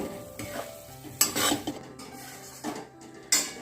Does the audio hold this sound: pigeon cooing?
no